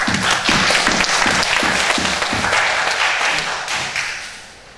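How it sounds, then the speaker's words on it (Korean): Congregation applause during a Sunday church worship service, loud and close with a dense wash of clapping and some rhythmic thumps, sustained before tapering off near the end. "하나님께 영광의 박수 주시겠습니다"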